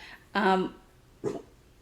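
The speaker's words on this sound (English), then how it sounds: "She's barking at literally nothing." A dog gives two short barks indoors, the first fuller and louder, the second brief, against a quiet background.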